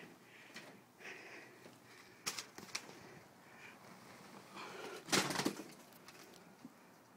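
A trapped pigeon-like bird shuffles and beats its wings nearby in a confined space, with short bursts of flapping and scuffling, the loudest flurry near the end, amid quiet surroundings.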